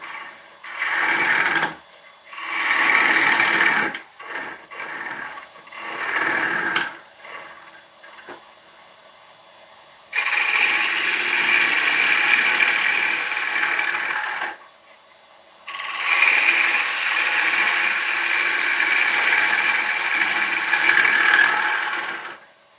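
Aggressive scraping and rasping as a 1/2 inch hollowing tool cuts into die back ash on a lathe, in irregular bursts at first, then longer sustained cuts broken by short pauses.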